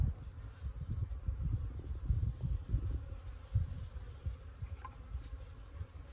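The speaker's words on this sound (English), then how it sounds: "We got bees." Bees buzzing in a hive opened for a late-winter check after wrapping with insulation and felt paper, a low steady drone that swells and dips close by with faint rustling.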